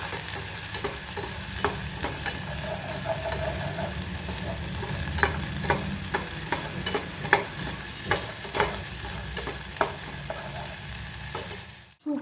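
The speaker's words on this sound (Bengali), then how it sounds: "তাকে ভালো করে ভেজে নিচ্ছি আমি।" Fennel and radhuni spice paste frying for Bengali shukto, with a steady close sizzle and a series of scraping clicks as a spatula stirs the pan, no voices.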